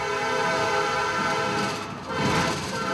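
A freight train rumbles at Arriaga railroad station in Mexico, a loud steady drone of rolling wagons with a tonal horn-like hum running throughout.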